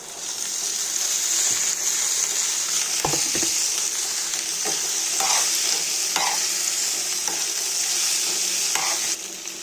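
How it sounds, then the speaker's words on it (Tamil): Boiled mutton is stirred into fried shallots and green chillies in a hot pan, a loud, close, continuous sizzle with a wet bubbling edge, broken by several spoon scrapes and knocks against the pan; no voices are heard. "இப்போ நம்ம வேக வச்சு வச்சுருக்கிற மட்டன் வந்து இதில் போட போகிறோம்"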